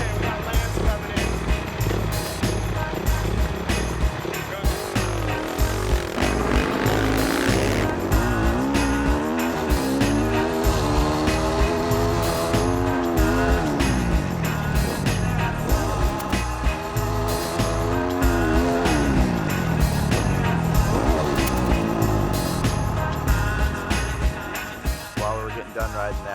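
An off-road motorcycle rides through desert terrain at Gordons Well, California, its engine revving up and down continuously and loudly, close by, with rising and falling pitch as the rider accelerates.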